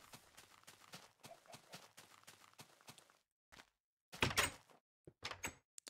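A door in a block-building video game is worked repeatedly, giving short clacking taps in a rapid series, then a pause and a louder scrape-like burst followed by a few more clicks.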